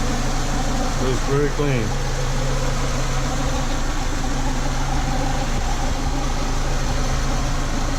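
A car engine idling in park with the air conditioning off, a steady low hum running throughout, with someone speaking briefly over it early on.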